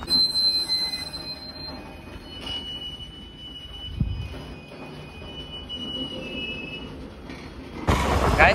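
A train at a railway station: rumbling wheels and a long high-pitched squeal of metal on rails, with a louder burst of rail noise near the end, heard at moderate distance.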